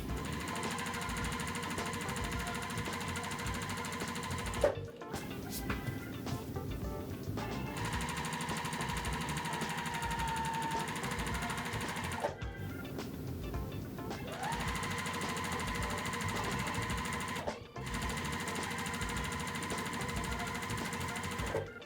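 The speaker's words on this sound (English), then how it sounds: "So I'm gonna go ahead and start sewing these right sides together" Sewing machine stitching quilt strip sets right sides together, a fast continuous mechanical whir running in long stretches with brief pauses between seams, close and steady with no talking.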